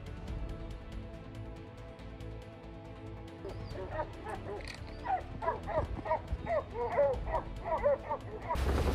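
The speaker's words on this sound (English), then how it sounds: "understand every look and every bark of the dog pack" A pack of bear-hunting dogs barks and yips in a rapid, overlapping chorus that grows busier and louder toward the end, heard over a low background rumble.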